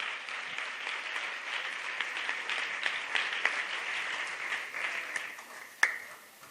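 Congregation clapping in church to praise God, a continuous soft patter of many hands at moderate distance, with one sharper clap near the end.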